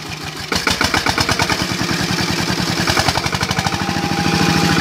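A motorcycle engine that finally caught after two hours of trying, smoking as it runs, settles into a loud, steady idle with a regular chugging pulse close by, no talk over it.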